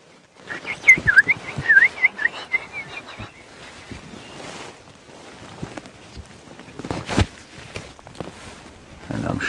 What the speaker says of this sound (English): You might just be able to hear the robins calling in the background.